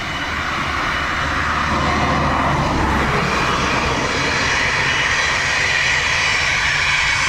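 A jet airliner at Dublin Airport gives a loud, sustained engine roar with a broad rushing hiss that builds slightly and holds steady throughout, in windy, wet weather.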